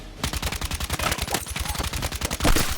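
Rapid automatic gunfire from a UMG 40 in a Call of Duty match rattles out in quick, evenly spaced bursts of sharp, punchy shots, close and loud, running almost continuously throughout.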